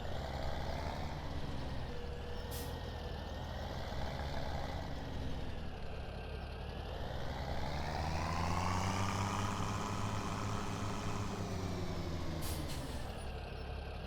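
A modded Case IH 1455 tractor engine in Farming Simulator 17 runs steadily throughout, a continuous droning rumble that rises and falls in pitch as it revs, with a couple of brief hissing air bursts and no talk.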